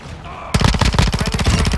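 Rapid automatic gunfire in a military shooter video game, a loud close burst of evenly spaced shots that starts abruptly after a brief quiet moment and keeps firing steadily to the end.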